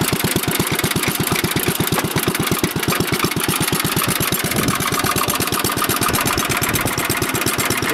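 A 1948 Ariens tiller's small engine chugs steadily in low gear, with an even, rapid thumping rhythm. It is close and loud and runs alone for the whole stretch.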